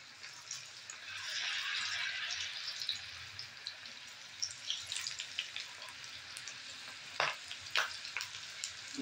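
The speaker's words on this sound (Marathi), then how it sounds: "आपण ह्याच्यात आता भेंडी सोडून घेऊया." Okra goes into hot oil and frying starts, a rising hiss that settles into crackling and spitting, then a run of sharp pops and stirring clicks, fairly quiet and close with no talk.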